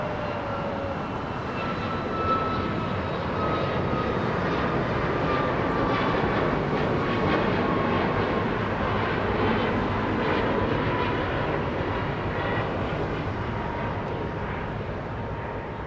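Canadian airliner at Los Angeles International Airport, giving a sustained loud jet roar with slowly gliding engine tones, steady in level from start to finish.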